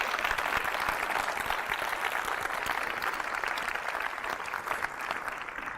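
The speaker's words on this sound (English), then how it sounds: "I want to say, all of you, a big thank you and a round of applause to Jim Martin and Paul Davidson." An audience at a red carpet film premiere claps, a dense, continuous wash of applause that stays loud and steady throughout.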